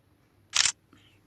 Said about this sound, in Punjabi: ਇੱਕ ਮਿੰਟ ਫੋਟੋ ਕਲਿੱਕ ਕਰ ਲੈਂਦੇ।